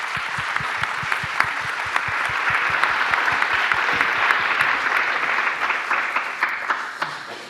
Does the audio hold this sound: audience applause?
yes